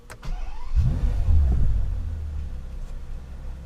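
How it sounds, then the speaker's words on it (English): A Bentley Continental GT's 6-litre twin-turbo W12 engine cranks and catches, bursting into a deep, loud rumble that settles into a steady idle. "6 litre W12 twin turbocharged. Let's see what that sounds like."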